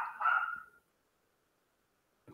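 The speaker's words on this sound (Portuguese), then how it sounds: "Com um doguinho aqui miando alto, né?" A dog at home gives one loud, drawn-out bark near the microphone, followed by silence and a brief faint sound at the end.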